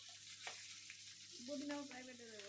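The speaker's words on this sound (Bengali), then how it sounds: "মাছের মাথা আর লেজ ভাজি করে নিচ্ছি" Hilsa fish head and tail fry in hot oil with a soft, steady sizzle, a quiet close-up crackle that holds for a couple of seconds with a faint tonal whine partway through.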